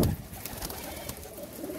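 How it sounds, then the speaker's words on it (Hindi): Lakha pigeons cooing softly among a flock at a pigeon breeder's loft, low murmuring coos running steadily through the moment with faint background rustle. "ये लाखे कबूतर है"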